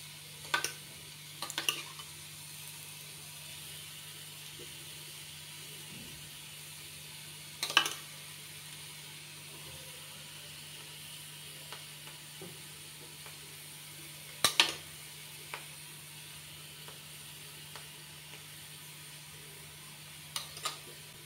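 Beaten egg cooks in a frying pan for a cheese onion egg toast, giving a quiet, steady sizzle throughout, broken by occasional light scraping ticks of stirring spaced several seconds apart.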